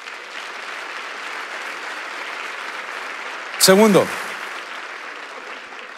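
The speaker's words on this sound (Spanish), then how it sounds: "Dale un aplauso a Jesús." A church congregation applauds in a steady wash of clapping that runs throughout, near and moderately loud, while a voice briefly speaks over it.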